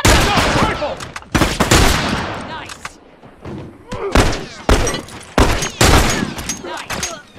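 Rifle gunfire in The Last of Us during a fight with hunters, with repeated loud, sharp shots in quick irregular bursts, close and punchy, mixed with shouting voices.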